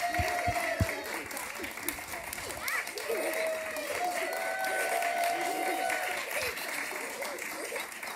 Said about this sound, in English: Guys, come back up for one more round of applause.